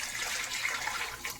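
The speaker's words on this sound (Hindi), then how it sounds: "अब हम इसमें 4 कप पानी ऐड करेंगे।" Water pours steadily into a cooking pot of chana pulao, a continuous splashing gush with no pause over the short stretch, close and fairly loud.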